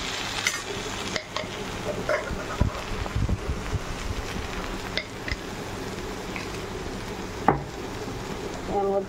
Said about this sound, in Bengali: নেড়ে এবার নামিয়ে দেবো।